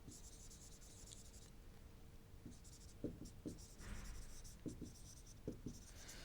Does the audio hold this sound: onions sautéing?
no